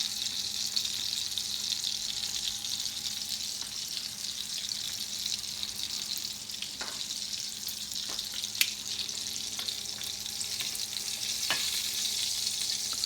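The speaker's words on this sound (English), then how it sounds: "got the good sear going on each side of the foie gras, and now we're just letting it cook through a little bit more" Foie gras sears in a pan with a steady, bright sizzle throughout, broken by a few light clicks and taps of utensils.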